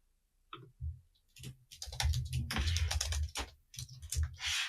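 Quick keystrokes on a computer keyboard, entering an email address into a login form, come in short bursts and a denser run of clicking, close and fairly quiet, with a voice talking over part of it.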